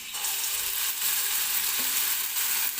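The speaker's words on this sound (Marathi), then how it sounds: "तर आता मी याच्यामध्ये बॅटर टाकून घेते." Urad dal and rice batter poured into hot oil for a South Indian roti gives a steady, close, continuous sizzle and crackle with no voices.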